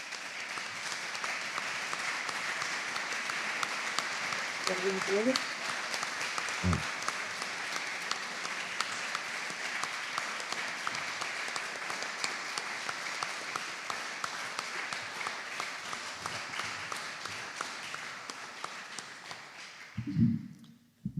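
A book-presentation audience for the author Paco Ignacio Taibo II's 'Asturias Octubre 1934' gives sustained, dense applause. It holds steady for about twenty seconds, with a few brief low bumps, then fades out near the end.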